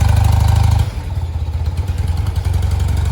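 A BMW R90/5 motorcycle engine starts and idles with a rough, pulsing rumble, dips briefly, then settles back into a steady, loud throb close by.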